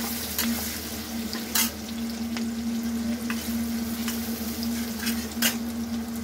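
Sliced onions fry in oil in a pan for a vegetable tandoori biryani. They make a steady close sizzle with a low hum beneath it and a few sharp crackles and pops, and no one talks.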